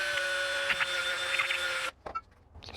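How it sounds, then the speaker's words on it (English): A drill bores through a can and a jar lid, a steady whining tone with scraping grind that cuts off abruptly, followed by a few light clicks and handling noises. "drill a hole through the can, or they call it the combustion chamber, and the jar lid"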